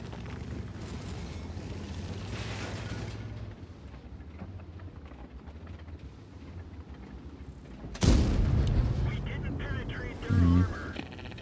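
Tank cannon fire in World of Tanks, T95/FV4201 Chieftain, a loud booming blast with a rumbling tail followed by a shorter second burst, over steady engine rumble and someone talking.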